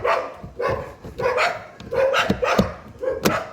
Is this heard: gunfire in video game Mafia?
no